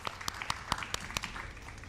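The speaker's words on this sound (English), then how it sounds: "one more round of applause for all of our recipients tonight" Audience applause at a high school senior awards ceremony for award recipients: a steady wash of many hands clapping, with a few sharper individual claps standing out, moderately distant and continuous throughout.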